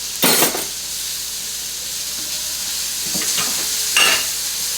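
Shallots or onions and mushrooms sizzle in butter for chicken marsala. A loud burst comes as they hit the hot pan, settling into a steady fry with a few stirring scrapes and a second sharp flare of sizzle.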